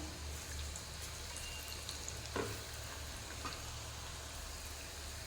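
Steady, quiet sizzle of gram flour batter frying in hot oil for vada pav, with a soft continuous crackle and a low hum underneath.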